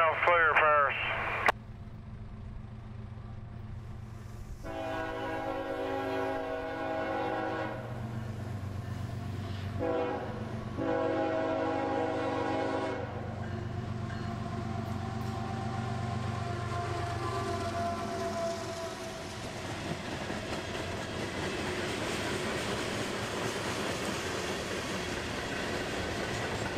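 CSX freight train Q541 rounding a bend on the old L&N CC subdivision, a loud multi-tone air horn blaring in long blasts over the low rumble of the passing locomotive and cars, heard from nearby.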